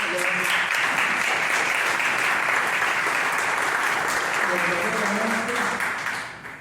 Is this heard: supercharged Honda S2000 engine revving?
no